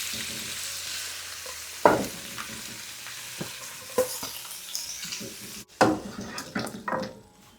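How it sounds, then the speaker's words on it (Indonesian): Chicken pieces dropped into a pot of water on the stove, with soft bubbling and scattered splashes, spoon clinks and stirring knocks up close. "Ayamnya sudah wangi, kita masukin ke air yang udah kita masak"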